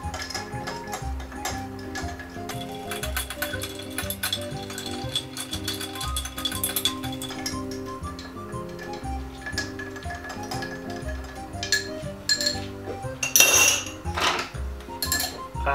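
A martini cocktail stirred with a bar spoon for twenty seconds, steady quick metallic ticking and clinking of ice against the mixing glass, close up and continuous, with soft background music and no talking.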